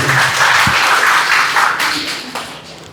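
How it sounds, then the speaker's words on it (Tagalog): An audience at a Catholic worship gathering claps their hands, a loud, dense burst of applause that holds steady and then tapers off toward the end. "Let's clap our hands for Coach JC."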